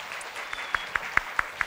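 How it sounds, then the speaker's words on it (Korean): An audience at a university event claps to welcome a professor. The claps are short, evenly spaced and moderately loud, with faint room murmur underneath. "큰 박수로 맞아주셨습니다"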